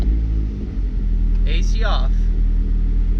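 Deep, steady low rumble and vibration fill the cabin of a Mazdaspeed 3 with the air conditioning off, droning continuously and evenly from start to finish, while someone briefly speaks over it midway.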